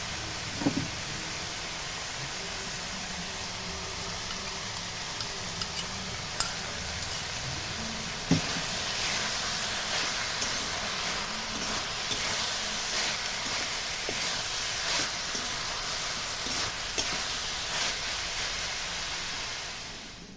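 Prawns cook in a pan with banana flower (mocha), giving a steady soft sizzle and hiss with occasional stirring clicks, no talking.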